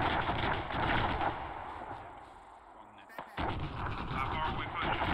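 Incoming mortar rounds in Arma 3 land as muffled distant booms within a dense battlefield rumble, with one sharp crack near the middle.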